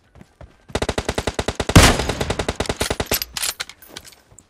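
Automatic rifle fire in the mobile battle-royale shooter PUBG Mobile, one rapid burst of about two dozen evenly spaced shots, loud and close, followed by a few scattered single rounds.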